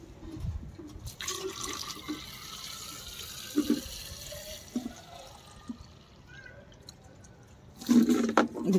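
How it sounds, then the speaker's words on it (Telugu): Water poured into a plastic bottle with a small hole gives a close, gurgling, splashy flow, rising and falling, with a louder rush toward the end and no speech. "పెట్టేసుకొని మనం దీంట్లో వాటర్ పోసేసుకోవాలి"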